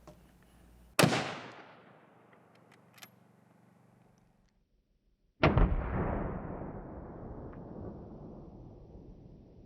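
A 6.5 rifle fires a Sierra MatchKing X bullet into a gel block, giving a loud, close muzzle blast that decays over a few seconds, then a second heavy boom a few seconds later that rolls away slowly.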